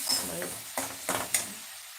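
Egg gravy ingredients, five eggs with garlic, chilli, tomato, onion and coconut, stirred and sautéed in a pan, with soft sizzling and a few scraping stirs over two seconds.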